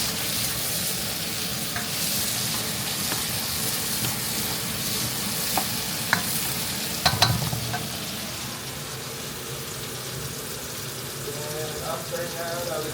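Food sizzling and being stirred in a hot pan during home cooking, a steady frying hiss with scraping and clinking of a utensil, close and continuous.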